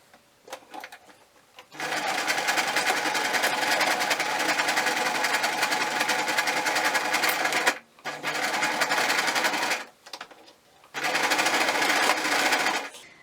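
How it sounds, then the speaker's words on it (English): A sewing machine runs a straight stitch seam along the side of a fabric hat, whirring steadily in three bursts with brief pauses between them, close and fairly loud with no talking. "So I'm just going to quickly sew a straight stitch down there so that the side of the hat is sewn up"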